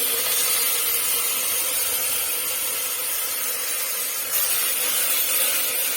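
Tomato paste is stirred into sautéed onions in a pan for a bean curry, a continuous close scraping and rubbing hiss of spoon against pan with a steady level throughout, no voices.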